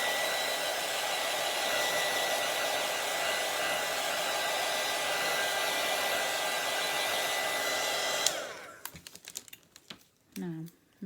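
A dryer blows in a loud, steady, close whoosh to dry a Christmas bauble craft, running for about eight seconds before switching off, followed by light handling clatter.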